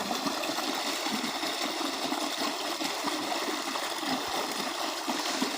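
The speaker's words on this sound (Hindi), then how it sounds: "यहाँ हम पहुँच चुके हैं अपने पानी की तरफ, जहाँ पर पानी निकल रहा है" Water pouring steadily out of an irrigation pipeline onto a farm field, a continuous broadband rush with a faint low engine-like rumble beneath it, close and even throughout with no voices.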